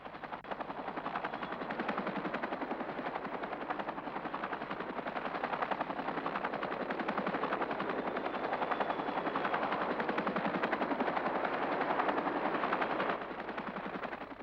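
Continuous rapid chain-gun fire from an Apache attack helicopter rattles over a loud, rhythmic rotor thrum, sustained and dense throughout.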